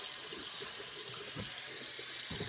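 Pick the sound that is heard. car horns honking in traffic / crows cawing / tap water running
tap water running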